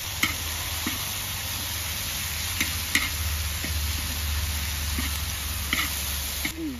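Dok kham flowers stir-fried in a pan, Shan-style: a steady close sizzle with a spatula scraping the pan at a loose, regular rhythm, and no voices over it.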